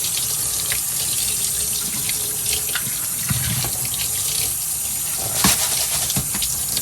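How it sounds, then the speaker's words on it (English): Tap water runs steadily into a sink while coins are rinsed under it, producing a continuous close splashing rush with small clinks and surges throughout. "I'm going to use 2 hands to finish rinsing these off"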